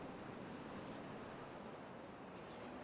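Water floods over a blockage in a beaver colony-building game, a steady soft rushing wash that stays faint and even throughout.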